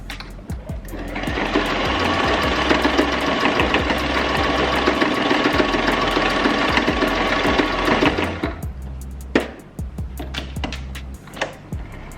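A sewing machine runs a straight stitch across a wig cap in one continuous whirring burst lasting about seven seconds, then stops, followed by a few scattered clicks and handling knocks.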